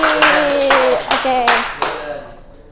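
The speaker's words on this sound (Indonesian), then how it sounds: "Tepuk tangan untuk Mbak Alia." Classroom applause during a microteaching lesson, a group clapping in several loud bursts of about half a second each, with a teacher's voice carrying over the claps.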